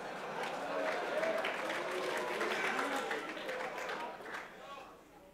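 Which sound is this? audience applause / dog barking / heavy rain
audience applause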